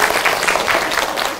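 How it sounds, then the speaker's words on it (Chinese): Audience applause from a seated crowd at an indoor lecture, a dense wash of many hands clapping steadily throughout the short stretch, fairly close and full, with no voices on top. "我们给他鼓掌一下。"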